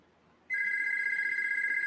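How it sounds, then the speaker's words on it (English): After a moment of near silence, a telephone bell starts ringing abruptly and keeps up a sustained, trilling electronic ring at close range through to the end. "There's the phone again."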